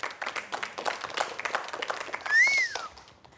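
Children's TV show audience clapping together, a dense patter of many hands at steady loudness for a few seconds, with a brief whistle-like tone rising and falling near the end.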